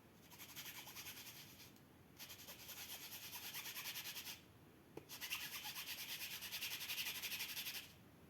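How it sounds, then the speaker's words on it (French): Ink is rubbed onto mesh tape with repeated close, scratchy rubbing strokes in rhythmic bursts, pausing briefly twice, and a small tap midway; faint and quiet overall, with no talk. "Voilà, vous voyez, je frotte mon encre dessus."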